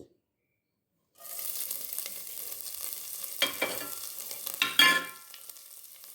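After a second of silence, green chili, fennel and ginger hit hot oil and sizzle steadily, with a few louder stirring scrapes and crackles rising midway for Kathirikai thokku.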